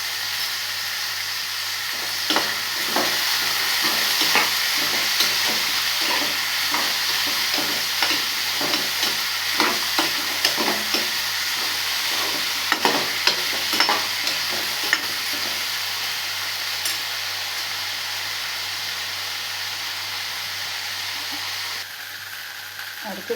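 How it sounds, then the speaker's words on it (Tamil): Raw plantain pieces fry in oil in a kadai, a loud steady sizzle running throughout with frequent scraping and tapping of a spatula as they are stirred, close up, with a voice talking faintly at times. "கொஞ்சம் எண்ணெய் ஊற்றி நல்லா வதக்கிக்கிடலாம்."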